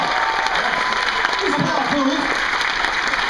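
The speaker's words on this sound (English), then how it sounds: "Oh, of course, applause. Applause!" Crowd applause at a live podcast variety show, Paul and Storm on stage, sustained clapping with some cheering and a voice talking over it partway through.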